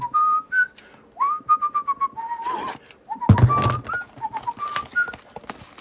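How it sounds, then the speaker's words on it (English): A person whistles a rapid, warbling melodic tune in a series of short rising and falling phrases, loud and close, with brief clattering noise partway through and no talk over it. "Do a Mexican whistle."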